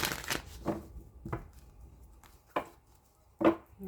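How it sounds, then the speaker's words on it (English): A deck of cards is shuffled by hand in several separate riffles, each a quick, papery flutter close to the microphone, with short quiet gaps between bursts. "let me just get a few more shuffles on this."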